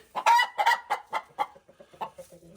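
An angry hen clucks in a loud, rapid burst of sharp squawks, then settles into softer, lower clucking near the listener.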